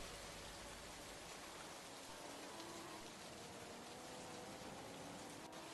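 Steady broadband rain hiss from an F1 racing video game at the Australian Grand Prix, continuous and even throughout with no breaks, heard alone without any talk or engine sounds standing out above it.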